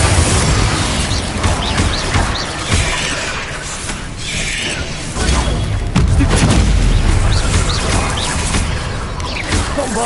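Confringo fire blast spells burst repeatedly in Hogwarts Legacy combat, loud shattering booms and crashes stacked over roughly ten seconds, with a brief lull midway before the blasts resume.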